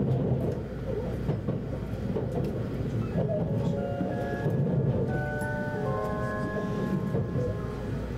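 A steady rumble and rattle of a moving JR West train heard from inside a carriage, with faint tonal whines rising and falling in the background.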